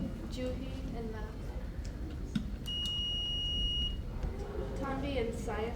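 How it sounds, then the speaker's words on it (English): A quiz buzzer at a middle school regional science bowl competition gives one steady electronic tone of about a second, heard under and between people talking in a hall. "buzz in, so you check your buzzer"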